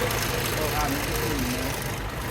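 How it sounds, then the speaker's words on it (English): A misfiring car engine runs at a service shop. Its uneven, low rumble pulses steadily at moderate level over a brief stretch, with faint tonal whines above. "It sounds like it's misfiring, which it is."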